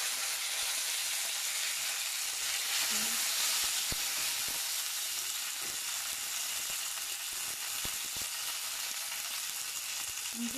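Green chilies and curry leaves sizzle in hot oil in a pan, a constant soft crackling hiss with a few faint pops. It is heard close up with no talking.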